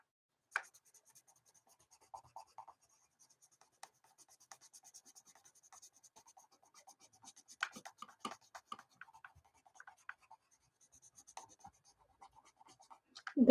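Derwent Pro colored pencils scratching across paper in short, quiet strokes, with scattered bursts of light scribbling and brief pauses between passes, close and faint with no talking.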